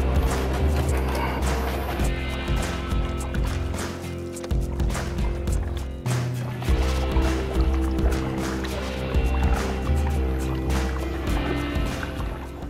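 A kayak is paddled on Florida water past the ruins of an old wharf, with repeated close splashes and watery drips that come and go in an uneven rhythm.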